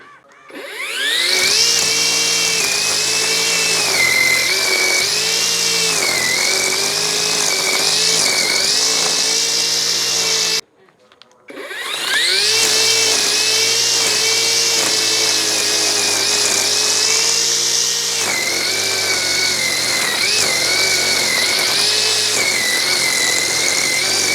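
Petrol grass cutter trimming grass in a home garden, a loud steady high-pitched engine whine that runs continuously, cuts out briefly near the middle, then restarts and keeps running at close range.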